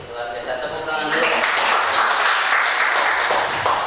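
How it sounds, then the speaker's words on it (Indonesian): Applause from a group of students and teachers at a school gathering breaks out after a second of voice and keeps going as steady, dense clapping with talk underneath. "Luar biasa, tepuk tangan dulu."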